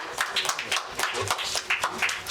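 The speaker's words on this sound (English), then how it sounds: "please give a round of applause for our panelists" Steady hand clapping from an audience thanking the panelists at a professionals panel discussion. The claps are dense but moderate in level and run throughout without a break.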